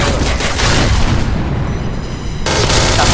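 A grenade blast in a shooter video game, a loud booming explosion that rumbles on for a couple of seconds, followed by another burst of noise.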